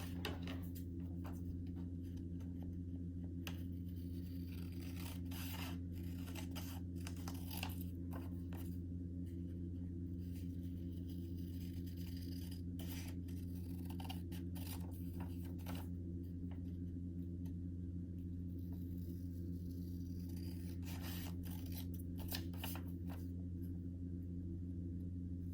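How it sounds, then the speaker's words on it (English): Scissors cut through sheets of colored paper in a run of quiet, irregular snips and clicks, set against a steady low electrical hum with no talking. "So last time I'm gonna cut that line so that I'm left with nothing but that smaller box."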